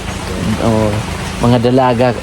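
Rain falls as a steady broadband hiss, with people talking over it in two short bursts.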